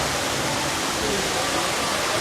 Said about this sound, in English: Here's where those waterfalls are fed from.